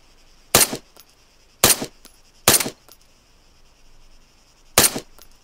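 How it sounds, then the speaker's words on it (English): Four sharp gunshots in the video game Arma 3, three in quick succession and a fourth after a pause, loud and close with brief echoing tails over a faint steady tone. "The bullets are hitting the ground in front of him."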